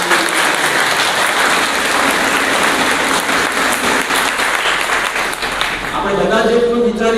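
An audience claps loudly and continuously at an Ambedkar Jayanti gathering, sustained applause filling the space before a voice returns near the end.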